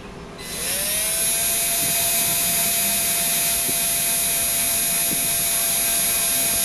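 A small drill whines steadily at high pitch, spinning up and holding a loud, continuous tone with faint scraping as the bit bites into a metal post.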